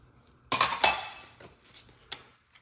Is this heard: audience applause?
no